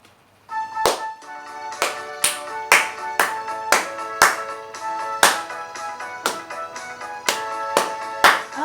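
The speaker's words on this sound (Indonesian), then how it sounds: "Kita bersama-sama adik-adik sambil tepuk tangan kita bernyanyi." Children in a Sunday school class at GKI Gading Indah clap their hands in a steady rhythm while they sing a joyful song with musical accompaniment, with crisp claps landing on the beat.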